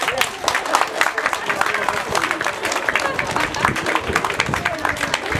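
Applause and crowd noise at an outdoor sports day celebration in Anapa, with steady clapping running through the whole stretch and a murmur of voices mixed in.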